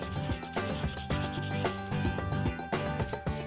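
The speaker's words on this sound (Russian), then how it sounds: "Под конец каждая форма еще вручную колется, пилится и полируется." A mould for glassmaking is sawn and polished by hand in a workshop, giving a loud, close run of rhythmic rasping strokes in a steady back-and-forth pattern.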